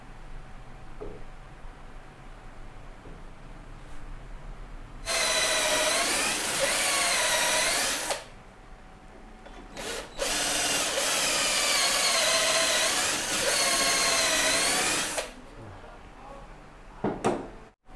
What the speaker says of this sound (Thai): เดี๋ยวผมเจาะพนังไล่ไปเลยนะครับ